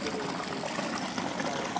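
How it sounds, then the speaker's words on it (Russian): Spring water trickling out of a rock into a small stream at the head of a travertine waterfall in a Stavropol forest, a steady soft babble with no clear pauses. "А вот отсюда начинается этот ручеек."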